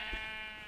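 A sheep bleats in the video game Minecraft, one short wavering cry heard up close and alone, with no other sounds around it.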